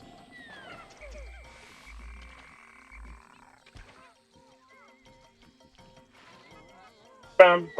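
Wollywog frog enemies in Pikmin 2 give faint, low croaks alongside other soft game sounds, with a short loud burst near the end.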